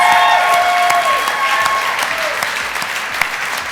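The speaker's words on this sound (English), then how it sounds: "I think they deserve another huge round of applause for Theatre Wildcats" Audience applause for a theatre group's performance at an awards ceremony, loud sustained clapping from a large crowd with a few cheers and whistles rising above it, gradually easing off near the end.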